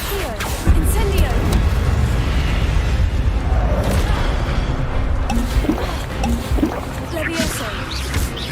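Repeated Incendio fire spell casts amid other spells in Hogwarts Legacy combat, a steady roar of booming fiery bursts and crackling impacts, loud and dense, with a voice speaking over the action.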